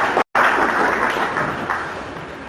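Audience applause at an engineers' monthly meeting in Asaba: dense, steady clapping from a crowd that breaks off for a split second near the start, then resumes and carries on evenly at moderate loudness to the end.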